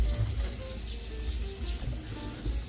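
Peeled produce is rinsed under a running sink tap, giving a steady splashing water flow with a low rumble underneath, constant from start to finish.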